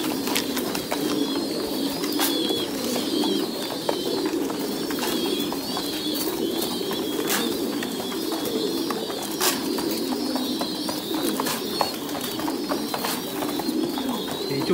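A flock of white Thai Titan pigeons keeps up continuous low cooing nearby, a dense layered murmur punctuated by brief wing flutters and clicks, with no one talking.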